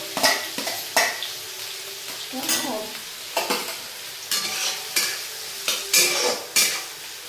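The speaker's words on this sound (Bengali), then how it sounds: "এবার আমি পেঁয়াজ কুচিটা ছেড়ে দিলাম। এবার পেঁয়াজটা একটু ভাজা ভাজা করবো।" Chopped onion sizzles in hot oil in a pan, a steady fry broken by repeated bursts of stirring and scraping every second or so, close and moderately loud with no talk.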